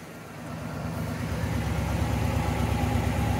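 A 1958 Plymouth Belvedere engine idles quietly and evenly, a soft, steady low hum with a smooth repeating pulse, heard close and alone without speech.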